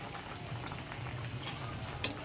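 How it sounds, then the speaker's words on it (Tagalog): Talakitok fish soup with tomatoes boils in a pot, a close, steady bubbling simmer with occasional small pops and no talking. "Hintayin lang natin kumulo siya"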